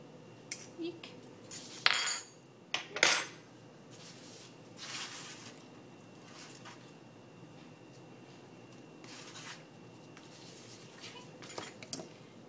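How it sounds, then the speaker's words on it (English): A knife slicing breakfast sausage into small pieces for tacos, several scattered clinking cuts on a board, with a few louder knocks, close and fairly quiet. "You cut them up pretty small and they go nicely throughout the breakfast taco"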